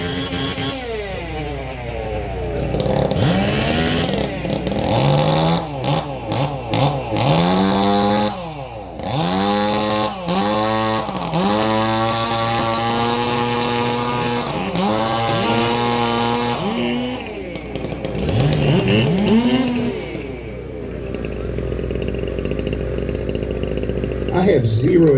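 Several modified clone 366 chainsaws run at a race event, their engines revving up and down in repeated loud, rising and falling whines, continuous and close, with speech-like voices partly mixed in.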